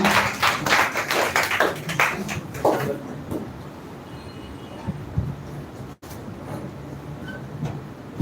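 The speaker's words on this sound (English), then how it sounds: "Clap for him." Applause for the next speaker at a speech event breaks out in a room, brisk clapping for about three seconds and then ending abruptly, leaving quiet room tone with a few faint knocks.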